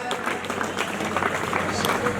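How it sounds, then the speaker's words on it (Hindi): Audience clapping to welcome prize winners at a college event, a steady wash of applause at moderate level with no clear break. "जोरदार तालियों से इनका स्वागत किया जाए।"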